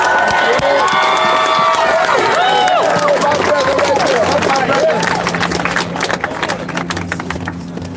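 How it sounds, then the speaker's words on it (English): Outdoor crowd at a nighttime Denver street protest cheering and applauding loudly, dense clapping and shouted voices blending into a sustained roar that thins toward the end. "Come on, give him a hand clap, y'all."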